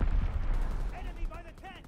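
Mortar rounds firing in Call of Duty WWII, heavy booming thuds at the start fading out as a voice speaks over the end.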